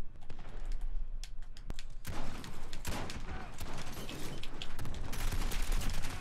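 Rapid bursts of video game gunfire crackle close and loud through most of the stretch, fired while the player character jumps, with a faint voice briefly underneath.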